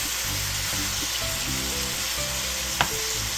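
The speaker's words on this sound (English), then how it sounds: "Time to brown up our sausage and beef" Ground beef and Italian sausage brown in a pan for a carnivore lasagna, giving a loud, steady crackling sizzle throughout with a brief clack of a utensil near the end.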